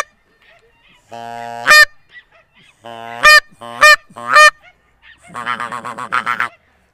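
A person imitating a Canada goose call with the voice, loud nasal honks in short bursts, a single honk then a cluster of three, ending with a quicker run of rapid honking notes.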